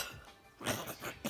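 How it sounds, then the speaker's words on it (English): A person coughing after cough medicine, a few short quiet coughs heard close up with no talking. "I just coughed and it came"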